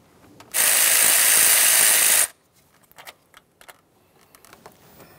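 A quick burst of a power ratchet spinning out a 10mm bolt on the rear valve cover of a 2007-2013 Acura MDX 3.7L V6, lasting under two seconds, then soft clicks and handling of the loosened hardware.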